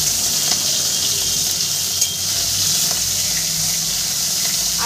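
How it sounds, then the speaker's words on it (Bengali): Soft chapila fish sizzling in hot oil in a pan, a loud, steady crackling fry close by with small pops and a stir or two. "একবারে আমি মাছগুলো দিয়ে দিয়েছি, আর একবার আমি ভেজে নেব।"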